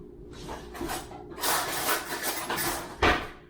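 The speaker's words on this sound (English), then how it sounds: "So now we're going to put some jam on." A knife spreads jam over a baked scone in several close scraping strokes with short gaps between them, ending in one sharper, louder scrape.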